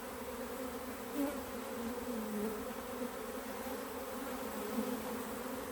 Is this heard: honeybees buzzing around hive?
yes